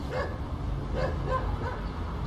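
A dog barks a few times in short yips at moderate distance, over a steady background noise.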